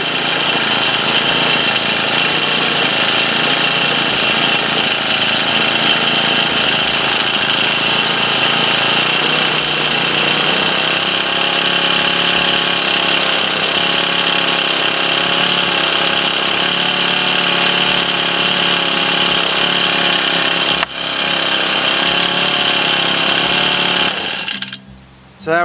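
A lawn equipment engine running loud and close after a throttle idle adjustment, a steady buzzing drone that holds for about twenty-five seconds before cutting off abruptly at the end.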